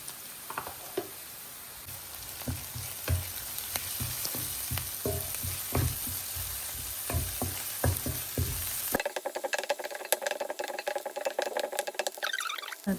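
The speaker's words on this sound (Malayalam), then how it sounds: "ഇനി നമുക്ക് ഈ ഉള്ളി ഒന്ന് ചെറുതായിട്ടൊന്ന് മൊരിഞ്ഞു തുടങ്ങിയിട്ടുണ്ട്" Onions with turmeric frying and being stirred in a pan, a close, steady sizzle with scraping spoon strokes, the sound turning to a brighter, crackling hiss near the end.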